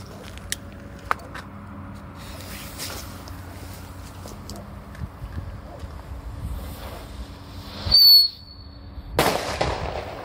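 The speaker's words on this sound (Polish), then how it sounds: "jest z tymi petardami to, że one podczas gwizdu zaczynają się obracać" A whistling firecracker goes off outdoors beside water: a brief shrill whistle rises over wind and faint background noise, followed about a second later by a single sharp bang.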